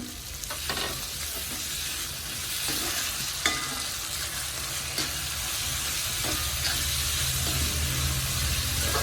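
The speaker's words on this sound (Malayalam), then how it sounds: "ഇത് നന്നായിട്ട് മുരിഞ്ഞ് കിട്ടണം ഈർപ്പം കംപ്ലീറ്റ് പോകണം" Finely chopped ginger fries in a pan with a steady close sizzle while a spoon stirs it, scraping and tapping the metal at irregular intervals over a low hum.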